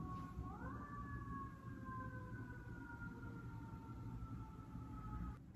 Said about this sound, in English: You can hear the siren again.